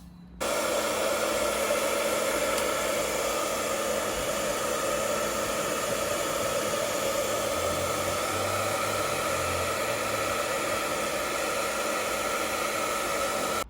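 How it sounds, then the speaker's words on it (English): A hair dryer blows over carbon fibre vinyl car side panels with a steady, loud whooshing roar that runs unbroken from start to finish, with no talking over it. "I went over everything with a hair dryer"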